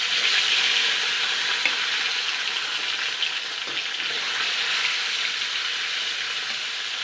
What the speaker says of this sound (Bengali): এবার আমি যে নুন হলুদ মাখানো মাছগুলো সেগুলো কিন্তু দিয়ে দেবো। তবে কিন্তু তেলটা কিন্তু ভালো করে গরম করে নিতে হবে।